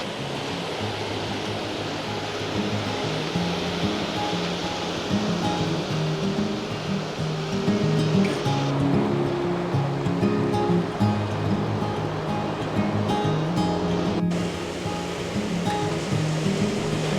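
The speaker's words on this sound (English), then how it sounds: "there is no nicer sound than when you hear the waves in the ocean" Ocean waves wash steadily onto the beach at New Brighton, a continuous broad rush of surf with gentle swells in loudness, no voices.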